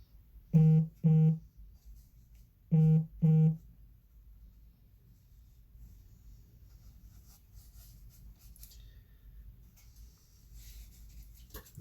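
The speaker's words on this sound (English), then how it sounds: "I'm getting messages on the phone" Phone message notification tones sound during a gouache painting session, two pairs of short electronic beeps, fairly loud and clear, followed by quiet room noise.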